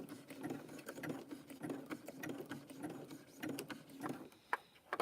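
A sewing machine stitches a braid onto the rim of a handmade fabric tea cup, running in steady rapid bursts with brief pauses and a few sharp clicks, close and moderately loud, with no talking.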